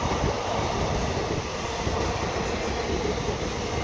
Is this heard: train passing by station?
yes